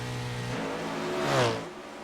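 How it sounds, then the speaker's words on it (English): 410 sprint cars race around Eldora Speedway in a dirt-track racing game, their engines droning steadily before one swells louder and passes by, then fades back to a lower hum. "These 410 sprint cars certainly can be a bit fun to watch"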